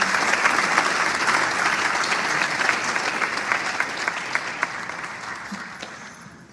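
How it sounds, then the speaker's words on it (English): Audience applause for a group of UMBC students at a scholarship award ceremony in Annandale, Virginia, steady, dense clapping from a large crowd that holds throughout and fades slightly toward the end. "Please give them a round of applause."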